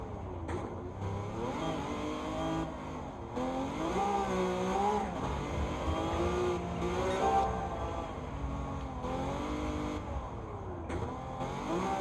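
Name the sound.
Vision GT car engine in the video game Gran Turismo 7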